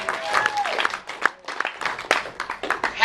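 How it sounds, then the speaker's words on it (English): Scattered, uneven clapping and some cheers from a small audience egged on to applaud for beards, with a voice speaking over it in short bursts. "Clap for beards, okay?"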